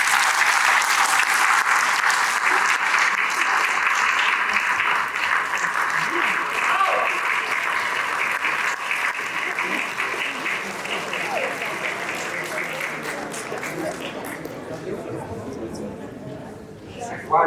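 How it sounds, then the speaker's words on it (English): A conference audience gives a long round of applause after a musical performance, dense and steady for most of its length, with faint murmuring mixed in, then thinning as it fades near the end. "please give him a round of applause"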